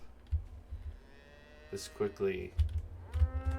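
Cows moo in a Medieval Dynasty barn, a few low bellowing calls rising near the end, with a brief voice speaking over the middle.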